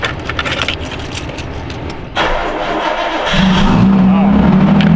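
A Nissan Laurel's engine, not in gear, cranks with a starter whir after a brief rattling noise, then catches around two seconds in and settles into a steady idle that grows louder and rises to a strong hum near the end.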